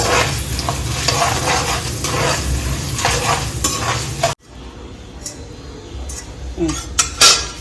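Urad dal and chana dal frying in oil in a pan for avalakki uppittu, with a steady loud sizzle and a stirring spoon scraping and clinking against the pan, quieter in the second half.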